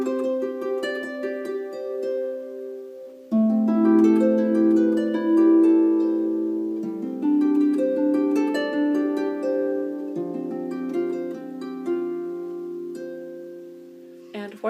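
A double strung harp plays a sneaking-thumb pattern built on 1-5-8 chords, bright plucked notes ringing over sustained lower tones in steady phrases that shift position every few seconds, close and clear with no talk.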